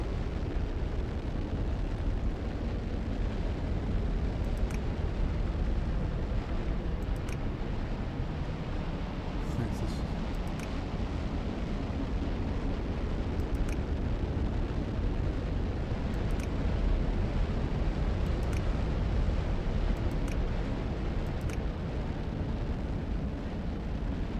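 A rocket launches in the Automation Empire game as a steady, loud roaring rush that lasts the whole time, broken by faint, regularly spaced ticking clicks.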